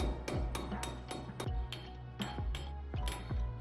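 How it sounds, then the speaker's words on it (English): Metal tool work on a Toyota Tacoma wheel hub, a screwdriver prying around the edge of a grease cap, giving a string of about ten sharp metallic taps and clinks at a steady rhythm, close and clear with no talking. "I took a screwdriver and worked my way around the edges until it popped off"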